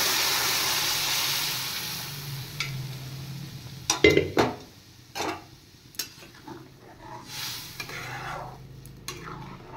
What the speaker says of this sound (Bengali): এবার আমি সেদ্ধ করে রাখা বিউলির ডাল দিয়ে দিচ্ছি।